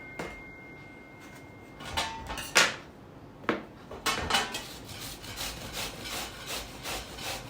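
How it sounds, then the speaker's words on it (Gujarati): Bottle gourd (doodhi) rubbed against a large grater, a run of rasping strokes that starts sparse and settles into a quick regular rhythm, close and clear with no talk. "હવે અત્યારે આ દૂધીને આપણે છીણી લઈએ છીએ."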